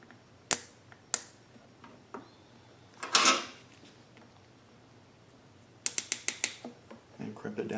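A small hose clamp being crimped onto a fuel hose on a Wen 4800 generator fuel kit, heard as a few sharp, close metallic snaps and clicks, with a quick run of rapid clicks near the end.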